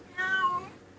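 A house cat gives one clear meow that rises and falls, close and moderately loud, lasting about half a second against a quiet room.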